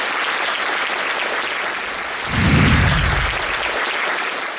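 An audience at a college debate event breaks into applause partway through, a swell of clapping from many hands over a steady background of room noise.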